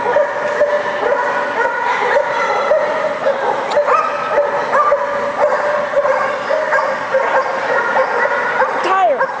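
A dog at a dog-sport event in Pendleton barks and yips in repeated sharp bursts. It is mixed with a steady background hum and people talking nearby.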